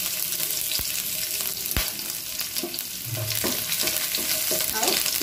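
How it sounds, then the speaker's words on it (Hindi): Chopped garlic frying in hot oil for veg Manchurian, a steady close sizzle with occasional stirring clinks and scrapes, no talk. "एबे आमर तेल गरम हो गलान इथिरे मुई रसुण काटिकिना रखीचे रसुण टिके बेसी देबे"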